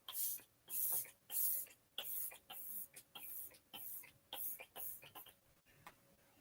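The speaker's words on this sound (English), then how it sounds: "Apparently you're supposed to shake it up before you spray yourself with it." About a dozen short, fine sprays of setting spray in an uneven rhythm, each a soft hissing puff close to the microphone, with brief clicks between them.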